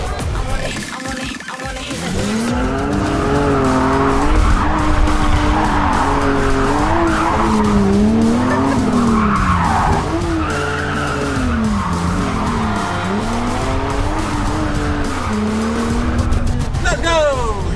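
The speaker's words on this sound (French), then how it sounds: "On va faire du drift." A car drifts with tires skidding and squealing continuously while the engine revs and wavers up and down, loud and close throughout, with people talking and shouting over it.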